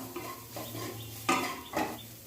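A spoon stirs ground chilli and cumin into a masala in a pan, scraping and clinking against the metal at close range over a low steady background hum.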